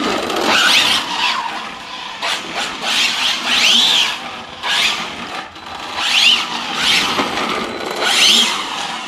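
An Arrma Felony RC car drifts with its tyres spinning, giving repeated high, whining squeals in bursts of roughly one to two seconds over a steady rushing motor noise, close and loud.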